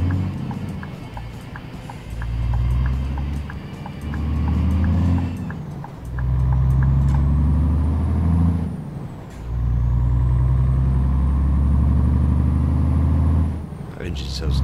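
A heavy truck engine in Euro Truck Simulator 2 swells and falls through several gear pulls with a throaty beat, air brake hisses and a whining tone between, with a person talking.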